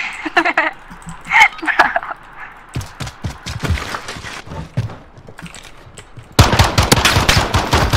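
Rapid automatic gunfire from a Call of Duty Modern Warfare match, with bursts of shots alongside voices, ending in a loud sustained volley of fire up close.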